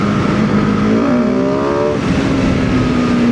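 A KTM 690 SMC motorcycle engine runs during a test ride, a loud, steady close-up drone that rises in pitch as it revs up before settling back to a constant hum, with no talk.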